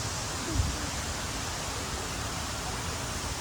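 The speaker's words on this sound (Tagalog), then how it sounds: "Welcome to Pinoy Ann Falls" Tinuy-an Falls in Surigao del Sur roars as a dense, steady broadband rush of falling water, loud and constant, with a brief voice buried under it.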